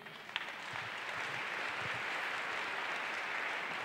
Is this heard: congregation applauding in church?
yes